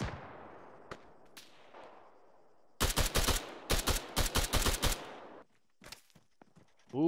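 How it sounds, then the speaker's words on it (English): Gunfire in a video game, with a burst of loud close shots fired in rapid bursts over several seconds after a quiet stretch with a few isolated cracks, then fainter scattered shots near the end. "Shots."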